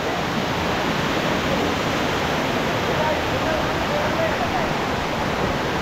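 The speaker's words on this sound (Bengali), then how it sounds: "এই ঝর্ণাটা দেখে আপনার ফিলটা কি, অনুভূতি?" Roar of Soinggong waterfall deep in the hills of Thanchi, Bandarban, a dense, steady rush of falling water that stays loud and close throughout with no break.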